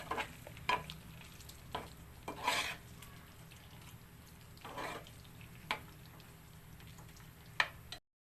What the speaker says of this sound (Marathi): आता त्याला फिरून घेते